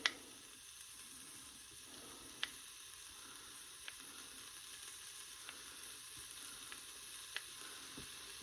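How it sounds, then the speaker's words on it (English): Quiet, steady sizzle of thick-cut bacon frying in an Instant Pot, with occasional soft pops and ticks, faint and close, with no talking. "Now I'm hearing it start to sizzle a little bit."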